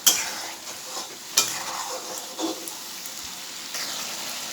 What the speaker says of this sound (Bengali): মশলা থেকে তেল ছেড়ে দিচ্ছে, মানে মশলা ভাজা হয়ে গেছে।